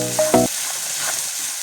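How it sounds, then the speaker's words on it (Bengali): Onion and tomato sautéing in a pan for mung dal, a soft continuous sizzle after a brief tonal clink at the start, close and alone. "এটাকে ভালো করে আমি আরও কিছুক্ষণ কষিয়ে নেব।"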